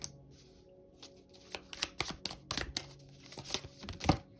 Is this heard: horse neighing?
no